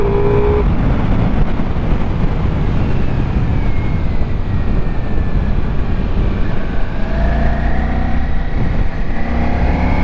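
Ducati Multistrada V4S motorcycle with a V4 engine, a loud continuous engine roar heard up close, with rising and falling pitch sweeps as the revs change.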